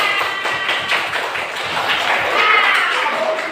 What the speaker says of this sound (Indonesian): Oke, tepuk tangan untuk Jessica.